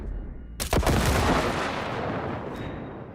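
Gunfire in the video game Cyberpunk 2077: one sharp, loud blast followed by a long, rumbling, echoing decay that fades slowly over several seconds.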